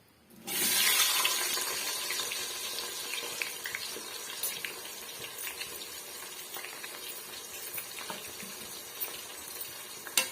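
Sliced large onions and three green chillies dropped into hot oil for tomato rice, bursting into a loud, bright sizzle that starts abruptly and then crackles steadily while slowly easing off, with no voices.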